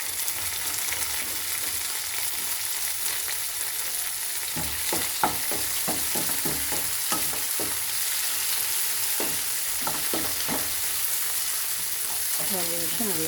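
Onions, tomatoes and dried red chillies fry in a pan with a steady close sizzle, and a run of stirring scrapes and knocks comes through during the second half.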